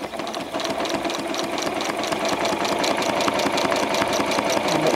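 Sewing machine stitching steadily during free motion quilting, with a rapid, continuous mechanical needle rhythm that holds at an even loudness throughout.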